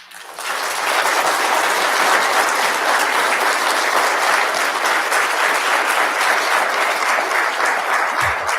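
A TEDx audience at Central Michigan University gives a speaker a long, loud ovation: dense, even clapping that swells in within the first half second and holds steady for about eight seconds with no talking.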